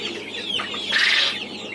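Turkeys and domestic, big-footed and black chickens mingle in a farm nursery pen, giving short clucks and warbling calls that rise into a louder squawk near the middle, close by and without talk.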